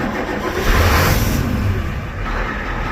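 A warm Ford 7.3 IDI diesel engine with freshly installed rebuilt injectors cranks and fires up, settling into a loud, steady running clatter with no talk.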